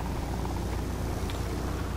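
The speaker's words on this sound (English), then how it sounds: "Is there a helicopter up there?" A helicopter in the video game Ride to Hell gives a steady, loud rotor drone that persists throughout without pause.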